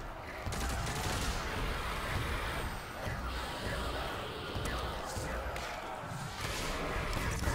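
Rapid weapon fire rattles in Call of Duty Zombies on the Moon map, dense bursts of shots going on without pause through a zombie horde, with voices talking over the gunfire.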